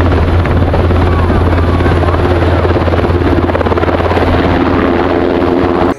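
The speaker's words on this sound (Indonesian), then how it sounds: "Helikopternya lumayan besar." A large helicopter roars loudly and close by, its rotor producing a continuous throbbing, chopping drone with a steady low hum that holds unchanged throughout.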